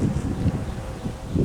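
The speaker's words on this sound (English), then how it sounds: "It's too windy out here." Wind buffets a microphone outdoors on a sunny, dry day in Louisiana: a steady low rumble that swells into gusts near the start and again at the end, with no voices.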